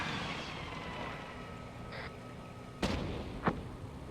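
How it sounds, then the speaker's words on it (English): Tank guns firing in a military realism video game, two sharp distant booms about half a second apart over a steady rumbling background of engines and ambient battlefield noise. "And now the tanks are just going to shoot these."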